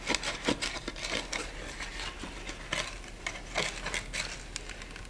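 A D2 steel bushcraft knife drills down through a soft half-inch-thick piece of wood, giving a steady run of scraping, rasping rubs and gritty strokes at close range, with no talk.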